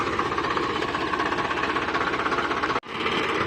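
A tractor engine runs steadily in a cotton field during weeding work, a loud, continuous rhythmic chugging with a brief dropout near the end.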